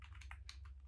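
Rapid keystrokes on a computer keyboard while code is typed for a JavaScript self-driving car program, a close, steady patter of clicks with no talking.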